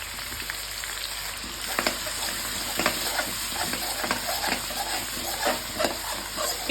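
Spices fry in hot oil in a pan for a shankar fish curry, giving a steady, moderate sizzle with occasional soft crackles and faint stirring taps.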